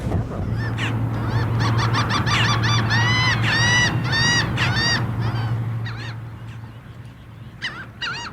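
Seagulls calling over the Neuse River, a rapid run of loud, harsh honking cries with a steady low hum beneath them, fading to a few scattered calls.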